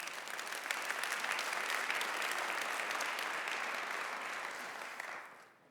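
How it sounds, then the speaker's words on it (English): Large audience at a corporate conference keynote breaks into sustained applause, a broad even roar of clapping that swells and holds for several seconds before tapering off at the end. "Can I get a round of applause for that story?"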